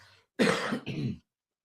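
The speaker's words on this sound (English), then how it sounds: "That's not spirit. That's actually a cough." A short, harsh cough in two bursts, close to the microphone, followed by silence.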